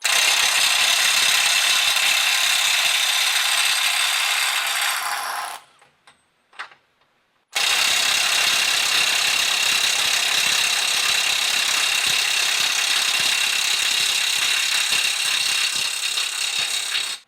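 A Snap-on CT9038 18V stubby impact wrench hammers at a bolt in a loud, continuous rattling burst, pauses briefly with a few faint clicks, then hammers again for a long steady run, close up and without talk.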